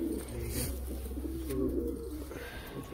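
Pet pigeons cooing in a loft, overlapping low rolling coos close by with a steady murmur underneath.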